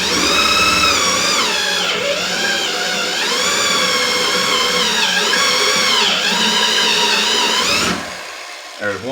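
A power drill bores slowly through aluminum rivet heads during a Lil Red Express restoration, whining loud and steady for several seconds with pitch wavering under load before it stops abruptly.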